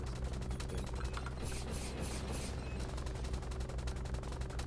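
Rapid gunfire in the Roblox game War Tycoon, a dense and continuous automatic stream of shots, loud and unbroken throughout with a rough, crackling texture.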